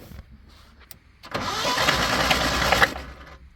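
A 1980 Chevy Luv pickup, abandoned since 1998, cranks over on the key without catching, a loud, close, steady grinding churn lasting about a second and a half after a quiet start, with no talk.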